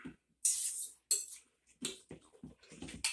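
Metal spoon scraping and clinking against a bowl while minced garlic is worked into homemade Italian meatball mixture, a few short bursts with pauses, close and fairly quiet, no talk.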